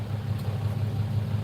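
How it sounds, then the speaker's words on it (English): A nearby engine runs steadily, giving a low, even droning hum like idling with a faint rhythmic throb, close and constant throughout with no voices over it. "There's an engine next to us."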